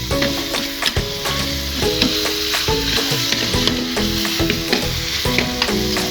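Tempeh and bean sprouts sizzle in a hot pan with soy sauce as a spatula stirs them, giving steady frying crackle with regular scraping strokes close up and no voices.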